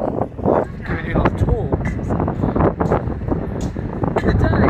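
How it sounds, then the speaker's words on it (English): Strong wind buffets the microphone high on an exposed spot 300 feet above sea level, roaring and gusting loudly and continuously throughout. "Told you it's windy."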